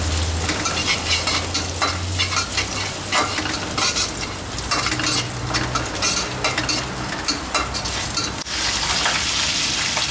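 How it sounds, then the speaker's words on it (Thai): Chili, garlic and Chinese greens stir-fry in a hot wok, a dense loud sizzle broken by frequent scraping and clattering strokes of the spatula, near and continuous with no talking. "ก็หอมปั๊บเดี๋ยวเราจะตามด้วยผักกาดลงไปผัดเลยนะครับ"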